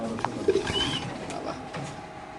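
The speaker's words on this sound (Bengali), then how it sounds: "এখানে আছে একজোড়া ব্ল্যাক রেসার কবুতর।" A pair of black racer pigeons in a pigeon loft give a few soft, low coos, close by, over faint background noise.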